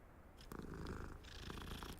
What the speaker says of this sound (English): Ooh, hold on, it's a cool looking cat.